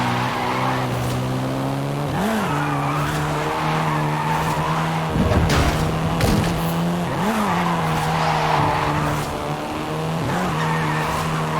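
A Volkswagen Golf R, seventh generation, races and skids in Forza Horizon 5, its steady engine drone broken by several rising revs and shifts, with tire squeal swelling in the middle, loud and close throughout.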